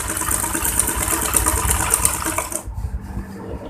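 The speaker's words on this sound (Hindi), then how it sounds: "ये देखो इस तरह से इस पर सिलाई लगाते जाएंगे।" An electric sewing machine runs fast while stitching gathers of thread into a boutique-style kurti, a loud steady whirring rattle that cuts off abruptly near the end, leaving a quieter hum.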